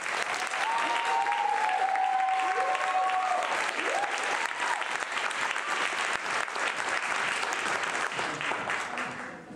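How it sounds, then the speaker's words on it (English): A crowd at a Pride drag event applauds Melvin Edwards with sustained, dense clapping throughout, steady and fairly loud, easing slightly at the very end, with faint voices briefly audible at the start. "So if we can give Melvin Edwards a great round of applause."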